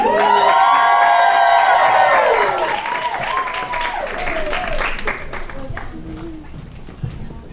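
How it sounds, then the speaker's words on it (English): A stand-up comedy night crowd claps and cheers loudly for a comedian finishing her set, with high whoops and shouts over the clapping early on, then the noise gradually thins as the applause fades. "Another round of applause for Bria, please"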